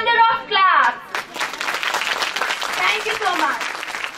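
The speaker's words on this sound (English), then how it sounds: "So you have to motivate these children with your thunder of claps." Audience applause at an LKG annual day function, a dense, sustained burst of clapping from a crowd that swells after the first second and carries on steadily to the end, with a voice talking at the start.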